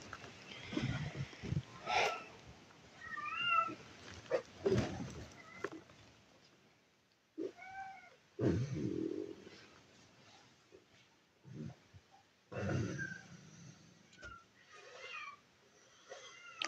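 A cat meows repeatedly, crying because it misses the kittens; clear, close, drawn-out calls come in spaced bursts with quiet gaps between, loud and alone.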